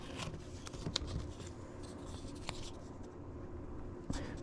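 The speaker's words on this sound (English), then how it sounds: "we just simply peel the paper off, tape off, and pattern at the same time" Paper pattern and tape are peeled off small scroll-sawed wooden hearts, giving quiet, close scratchy rustles and brief tearing scrapes with a few sharp ticks, and no voices over them.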